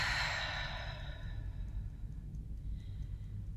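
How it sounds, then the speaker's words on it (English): A single deep breath taken during an EFT tapping session, a long, soft exhale that starts loud and fades over about a second and a half, then quiet room tone. "Deep breath."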